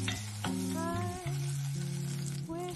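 Chopped scallion and sliced garlic sizzle steadily in a little cooking oil in a clay pot, a continuous close frying hiss with soft clinks and stirring, no talking.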